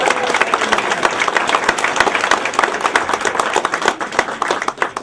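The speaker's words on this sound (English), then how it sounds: "Another round of applause to our 4 wonderful candidates." A lively round of applause from a town committee audience at a congressional debate, close and loud, with sharp individual claps standing out in a dense, continuous burst.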